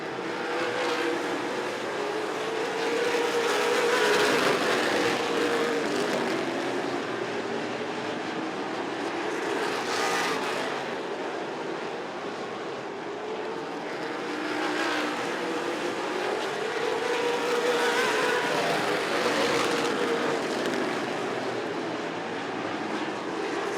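Big 8 late model race cars roar around a short track at the National Short Track Championship feature, engines rising and falling in waves as the pack sweeps past every few seconds, heard from a distance without talk.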